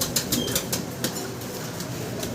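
A Mundian pigeon with full Andalusian colouring flaps its wings in a series of quick, close, papery bursts over a steady background hiss.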